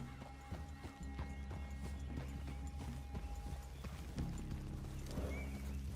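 Horses walk in Red Dead Redemption 2, hooves clopping in an irregular rhythm over a low, steady ambient rumble, fairly faint, with a brief whinny-like sound near the end.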